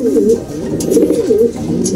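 Pigeons coo continuously up close, a dense overlapping chorus of soft throaty calls with no pauses, in a loft where a racing and diving bird is being feathered.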